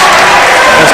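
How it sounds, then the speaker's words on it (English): A basketball crowd roars and applauds at a high school game, a loud, dense wall of cheering that is continuous throughout. "This crowd right now is going bananas."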